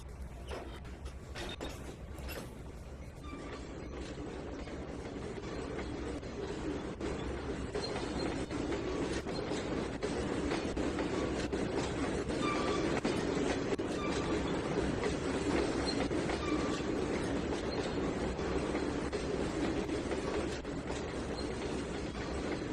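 A train shunting in the Trainz 2019 simulator rumbles at low level with faint rail clatter and wheel noise, a steady mechanical drone throughout with no talk.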